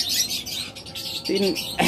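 Australian doves and other cage birds in a shop give close, harsh squawks and chirps, a few short calls breaking out over busy background noise.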